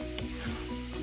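Au jus boiling and reducing in a pan on a stovetop, a steady bubbling sizzle with faint stirring clinks, close and continuous throughout.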